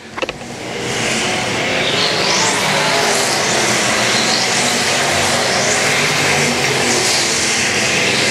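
Street stock race cars run a 15-lap main event on a dirt oval, their engines producing a loud, continuous roar that swells and fades slightly as the pack passes, with no voice over it.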